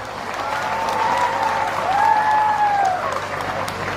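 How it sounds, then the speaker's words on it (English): Audience clapping at an evening youth convention's cultural programme, steady and moderately loud, with a sustained whistle-like tone gliding over it partway through. "Let us all give a huge round of applause."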